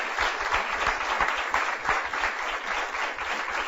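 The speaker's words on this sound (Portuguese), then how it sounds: "isso merece uma grande salva de palmas" A studio audience on a Portuguese afternoon television talk show breaks into steady, sustained applause that holds evenly throughout, with no voices rising above the clapping.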